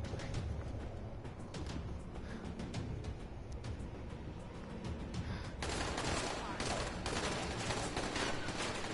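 Dense, sustained gunfire from the Dying Light video game, a continuous crackling fusillade that swells louder in the last few seconds, with a voice shouting briefly over it.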